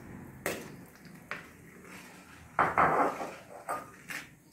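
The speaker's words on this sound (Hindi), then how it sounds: "और अब इसमें ये टमाटर कटे हुए डाल देंगे" Chopped tomatoes go into thick tomato kadhi gravy in a pan, heard as scattered close clinks and clatters of utensil on cookware, with a few sharper knocks among quieter gaps.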